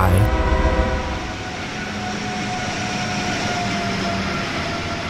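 An Amtrak train passing close by, a steady loud rolling rumble of rail cars throughout with a brief, clipped horn toot near the start.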